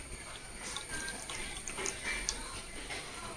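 Tamarind water squeezed from soaked tamarind trickles into a Kerala mackerel fish curry, a faint, steady splashing pour with light drips and no talking.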